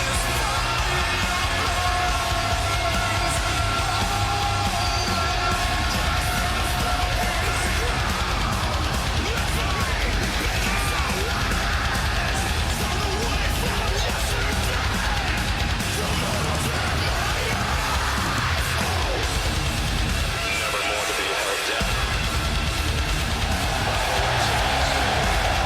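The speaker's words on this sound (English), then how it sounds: "Let's just listen to this crowd, folks." Wrestling crowd at a live VWF show roars throughout, a dense, loud wall of yells, whoops and cheers with voices shouting under the din and barely a lull.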